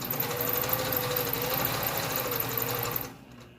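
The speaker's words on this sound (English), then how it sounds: "I'm going to start stitching together where these seams meet up" Sewing machine stitching a seam on a stretched fabric band, a steady close, continuous mechanical whir that runs for about three seconds before stopping abruptly.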